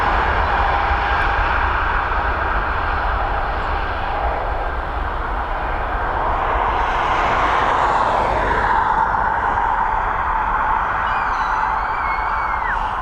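Air Baltic Airbus A220 airliner engines at Dublin Airport, a loud sustained turbofan roar with a whining tone that swells and shifts midway as the jet passes nearby.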